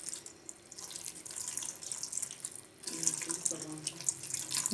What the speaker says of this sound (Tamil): வடிகட்டினதுக்கப்புறம் நம்ம ஒரு பச்சை தண்ணி எடுத்து இது மேலே அப்படியே நல்லா வாஷ் பண்ணிக்கோங்க